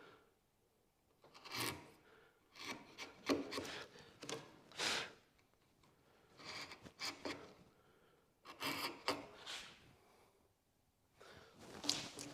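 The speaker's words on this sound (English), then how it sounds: "you insert the chisel into that marked out line and just push through" A chisel paring wood to a marked line at a small workbench, close, quiet scraping and rasping pushes in uneven bursts separated by short pauses.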